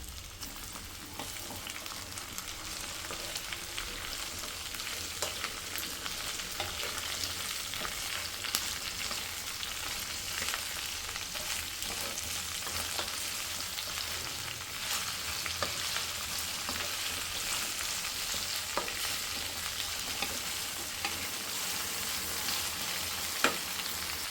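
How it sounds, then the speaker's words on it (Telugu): Cut okra (ladies finger) fries in hot oil for a curry, giving a steady, even sizzle that hisses continuously at a moderate distance throughout, with faint crackles and no voices. "సో ఆయిల్లో ఇప్పుడు కట్ చేసుకున్న బెండకాయలన్నీ వేసి ఫ్రై చేసుకున్నాం."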